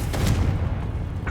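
Confringo blast spell in Hogwarts Legacy, a loud, deep explosive boom with rumbling low-end burst, sustained for about a second and followed by the onset of another impact.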